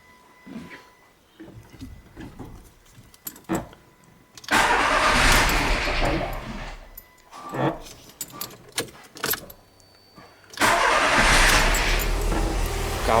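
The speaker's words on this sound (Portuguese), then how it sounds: "vamos dar partida no carro. Primeira partida do dia aqui." Keys jingle and click, then a 2010 Volkswagen Fox flex-fuel car running on ethanol makes two loud, sustained cranking and starting bursts close by. The starts are separated by quieter clicks and shuffling.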